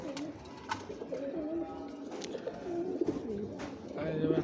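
Domestic pigeons coo in low, rolling murmurs through a loose flock, with soft wing flutters and faint background noise, steady and fairly close throughout.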